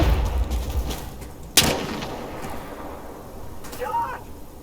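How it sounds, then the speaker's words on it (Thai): Shotgun blast in the online shooter Insurgency Sandstorm; one sharp loud report near the middle, with a faint second shot later and low game ambience around them. "ไม่ใช่ลูกระเบิดนี่มัน นี่มันลูกซอง"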